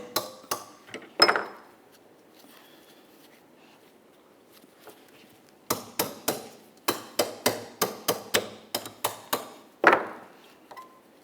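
A hammer taps a parking brake actuator clamped in a vise on a 2004-2008 Ford F-150, first a few sharp metallic knocks, then a pause, then a quick run of about a dozen close, crisp taps.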